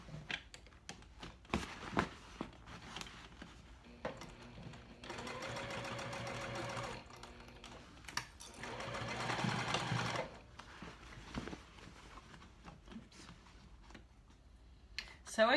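A home sewing machine runs in bursts as a bulky backpack is backstitched, two long steady whirring runs standing out among shorter starts, handling clicks and fabric rustle close by.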